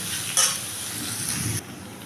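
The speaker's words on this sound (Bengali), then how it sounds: "পেঁয়াজটা একটু নাড়াচাড়া করে নেব" Onions being stirred and fried in a pan while cooking fennel chicken, a steady close sizzle with scraping stir strokes, one brief louder clatter early on, no voices.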